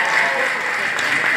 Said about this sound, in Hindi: जोरदार तालियां बजाई इनके लिए